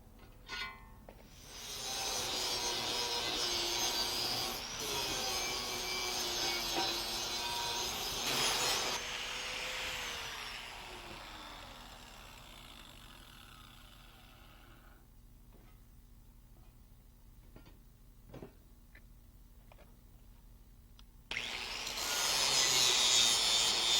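An angle grinder working the welded steel corners of a table top grill, a long rasping grind that fades into quieter pauses with small taps, then starts up loudly again near the end.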